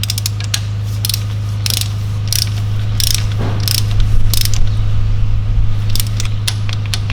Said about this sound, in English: I'm going to torque up the bolt to 10 Newton meters.